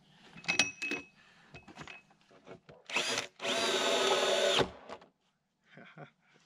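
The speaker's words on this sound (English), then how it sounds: "I'm going to flip them and drill from the other side." A power drill bores through wooden rafters in several bursts, the longest a loud sustained whine lasting over a second, with short clicks and knocks between runs and a faint moment of quiet.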